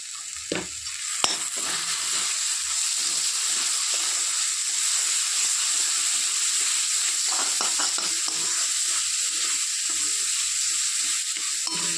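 A spice paste for a home-style paneer dish being sautéed in a pan, a steady hissing sizzle with sharp clinks and scrapes of a spatula stirring, near and without talk.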